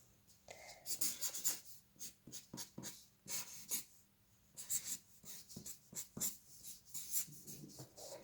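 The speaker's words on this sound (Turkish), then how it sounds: "Daha güzel yazayım bekleyin" Chalk or marker writes on a classroom board in a series of quick scratchy strokes and taps, close and fairly faint, with short gaps between words.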